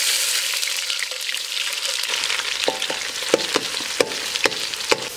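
Chopped onions frying in cooking oil in a kadai, a loud continuous sizzle with sharp crackles and spatters popping through it, close up and without talk.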